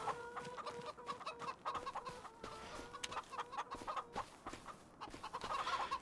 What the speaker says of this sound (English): some more full-grown chickens